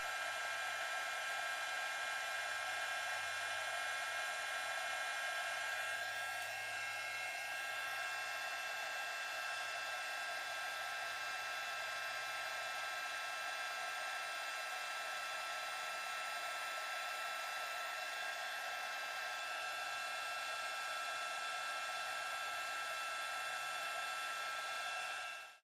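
Heat gun blowing continuously for soldering jump rings on an Egyptian scarab necklace, a steady airy whoosh with a constant hum that holds unchanged for about twenty-five seconds before cutting off.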